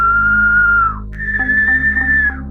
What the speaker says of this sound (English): when they heard somebody whistling outside the house,